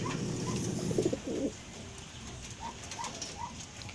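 Pigeons in a breeding loft give a few soft, low coos, faint and close, with gentle rustling and background hum between the calls.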